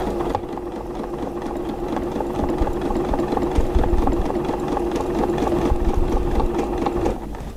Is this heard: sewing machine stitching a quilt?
yes